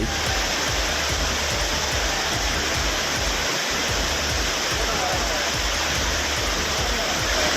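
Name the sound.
water falling at Courtallam Main Falls waterfall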